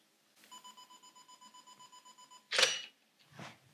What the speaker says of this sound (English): 2-second timer